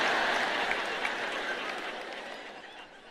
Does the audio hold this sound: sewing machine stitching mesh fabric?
no